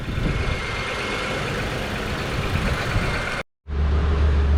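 A 2005 Honda Accord with a 3.0L V6 idles while warming up after an engine replacement, a steady broadband hum with low rumble, broken by a brief cut before the idle resumes.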